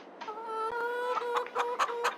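Chickens in a farming video game, a steady tonal hum overlaid by a run of short, sharp clucks that quicken toward the end, close and fairly faint.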